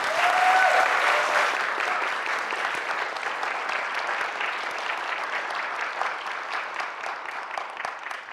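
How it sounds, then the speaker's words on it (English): Audience applause in a congregation hall: a dense, even wash of many hands clapping, loudest at the start and slowly thinning over several seconds, with no voices above it. "I think another round of applause is in order."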